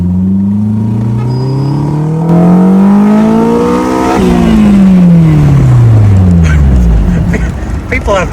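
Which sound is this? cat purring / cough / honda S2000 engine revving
honda S2000 engine revving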